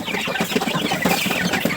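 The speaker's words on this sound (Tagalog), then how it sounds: "ang ating layer nga manok," Layer hens in a coop clucking continuously, many close overlapping clucks and murmurs with no pauses.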